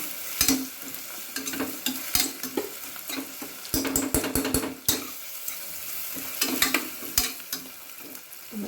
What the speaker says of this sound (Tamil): வெங்காயம் ஒரு 1 நிமிஷம் நல்லா வதங்கட்டும்